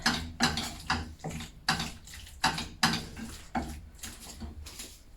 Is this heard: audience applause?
no